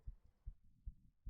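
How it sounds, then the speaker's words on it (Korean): Heartbeat sound effect in The Elevator horror game: four low, muffled thumps in a steady, fairly quick rhythm, faint and alone against a quiet hum. "어, 이거 심장 뛰는 소리 봐"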